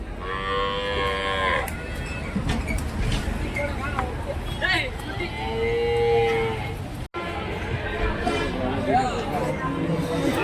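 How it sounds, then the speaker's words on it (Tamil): Cattle moo loudly and repeatedly at a livestock market in Orappam, Krishnagiri district, Tamil Nadu, where large native draught bulls and cows are tied up, with crowd chatter and people talking throughout. "நல்லா கொஞ்சம் பெரிய பெரிய மாடுங்களாக இருக்குங்க"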